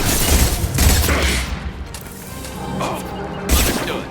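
A grenade explodes in Mass Effect 2, loud booming blasts and crackling gunfire bursts up close, with a second heavy hit near the end amid continuous battle noise.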